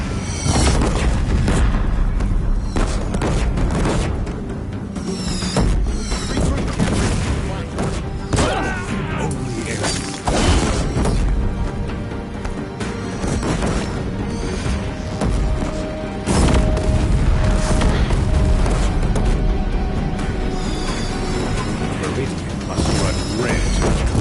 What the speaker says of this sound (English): If the Deathbringers keep firing, this bridge will go.